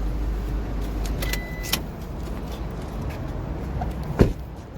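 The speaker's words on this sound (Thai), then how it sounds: "จะล็อกรถนะครับ" A 2023 Isuzu Mu-X Active is locked, and a couple of faint clicks and short beeps sound over low outdoor background noise, with a sharper clunk near the end.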